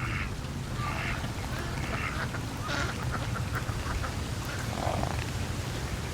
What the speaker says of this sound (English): here's some ducks trying to cross the road